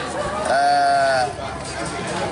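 Goats bleat in one drawn-out, wavering cry at close range, layered over a background of crowd babble and chatter.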